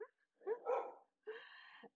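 A dog gives two separate barks with a short whine in between. Both are close and distinct, with silence around them.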